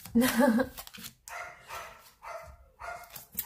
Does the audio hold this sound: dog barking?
yes